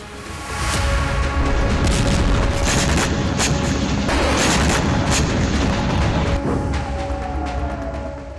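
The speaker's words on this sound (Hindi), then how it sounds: "हिजबुल्लाह का रॉकेट रिहायशी इलाके पर जाकर गिरा, जिसके बाद जबरदस्त धमाका देखा गया" A Hezbollah rocket hits a residential area of Maalot-Tarshiha, Israel: a loud, sustained blast rumble with repeated sharp cracking bursts rolling over it for several seconds, with no voices.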